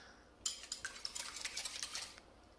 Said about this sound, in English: we'll mix the eggs in just a little bit till they're just combined